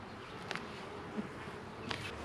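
Honey bees buzz around an open hive during an inspection, a faint, steady insect hum with a few slightly louder passes close by.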